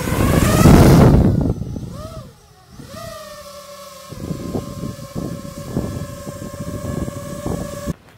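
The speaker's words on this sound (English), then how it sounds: "Regular prop sound." A small drone flying on its stock, regular propellers: a loud whooshing rush at the start settles into a steady, rising electric motor whine with layered harmonic tones, fairly close and with no talking.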